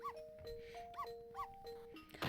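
Synthesized dog barks from the video game Ghost Trick: Phantom Detective, a few short chiptune-like yips repeating in a steady rhythm over a sustained electronic tone, ending with a brighter noisy burst.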